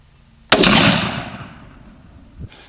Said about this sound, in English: I'm gonna take the first shot and make sure it's on paper before I set the camera up.